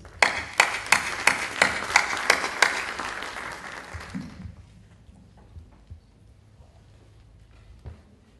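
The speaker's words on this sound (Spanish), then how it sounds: "Recibamos con un caluroso aplauso al doctor Ronald Cárdenas Krentz" An audience welcomes a guest doctor at a formal lecture event with applause: sharp, evenly paced claps, loud at first, then fading out after about four seconds, leaving a quiet room with a few scattered taps.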